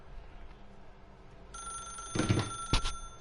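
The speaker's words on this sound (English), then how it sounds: "then pick up the phone." A telephone rings in a video game, a bright electronic bell that starts after a quiet stretch and then repeats in two louder bursts, close and clear with no talk.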